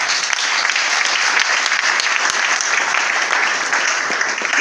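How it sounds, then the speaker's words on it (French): A church congregation claps together in dense, sustained applause that stays loud and even throughout, with no pauses and no audible speech over it. "Acclamons pour le Seigneur."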